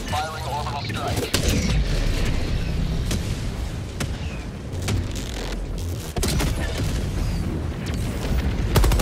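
Heavy booms and blasts of an orbital strike in a sci-fi shooter game, with repeated explosions and gunfire-like cracks rolling loud and dense throughout, close and continuous.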